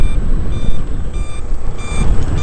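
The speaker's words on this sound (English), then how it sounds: "Indicators are working." Motorcycle turn indicators beep in a steady, repeated pattern while the bike rides in fourth gear through traffic, with constant road and engine rumble underneath.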